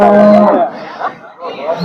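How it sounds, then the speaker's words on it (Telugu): A Holstein Friesian cow moos loudly once up close at a cattle market, a low drawn-out call fading into quieter background murmur. "ఇది ఆవు ఈ హెచ్ఎఫ్ఆవు"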